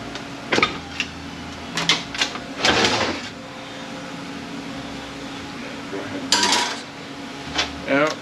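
Pump being pushed out of an AW4 automatic transmission in a workshop, with several sharp metallic clanks and knocks spaced irregularly over a steady low background hum, close up.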